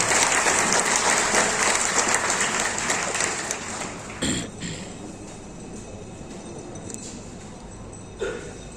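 Loud applause from a seminar audience in an Indian business meeting hall, dense and sustained for about four seconds, then thinning into scattered claps and a few sharp bursts that fade into quieter room noise.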